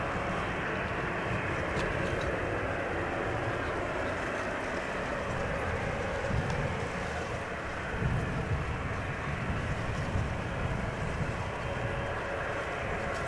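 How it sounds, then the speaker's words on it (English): Airliner departing Amsterdam Schiphol Airport, a steady broadband jet roar holding loud and even throughout with slight swells, heard outdoors close to the runway with some wind buffeting. "Beautiful takeoff indeed, Giovanni."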